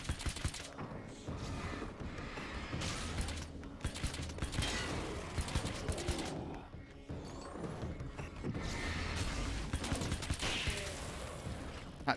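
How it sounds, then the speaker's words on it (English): Nail gun firing in Alan Wake's American Nightmare, repeated sharp clacking shots spread through busy game noise with scattered mechanical clatter and bursts of action. "I'm using a nail gun randomly"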